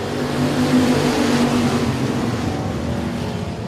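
Dirt track race cars roar loudly through a B main at the Louisiana Dirt Track State Championship, several engines revving together with a steady dense drone and a rising whine near the start.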